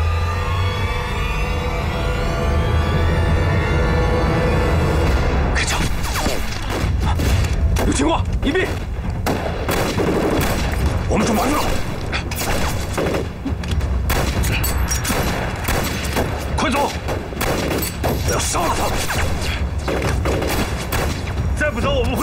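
Gunfire sound effects in a war drama battle scene, dense rapid bursts of shots and booms over a continuous rumbling background, loud and sustained, with voices shouting intermittently.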